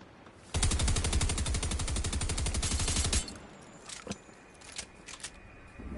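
Rapid automatic gunfire from a shooting video game, a loud sustained burst of closely spaced shots lasting about three seconds, then quieter scattered clicks and thumps.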